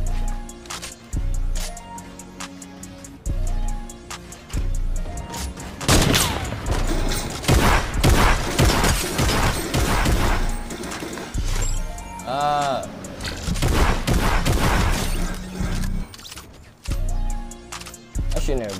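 Rapid bursts of gunfire from a Fortnite match crackle in dense volleys over game music and effects, loud and close, with a player talking over the action.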